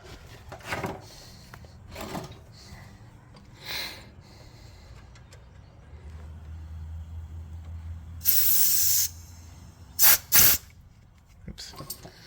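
WD-40 aerosol lubricant sprayed on a car, a loud hissing burst of about a second near the end, then two shorter sharp spurts, with quiet clunks and handling noises before.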